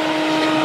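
A vacuum cleaner runs with its hose attachment removed, giving a loud, steady whine with a constant droning hum throughout, close by and without pause.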